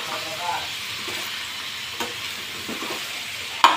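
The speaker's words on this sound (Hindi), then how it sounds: "थोड़ा सा मैं इसको हल्का हल्का से ऐसे फ्राई करके इसे थोड़ा गला लूँगी" Tomatoes, ginger, garlic and chilies fry in oil in a pan with a soft, steady sizzle, light stirring scrapes and a sharp clack at the end.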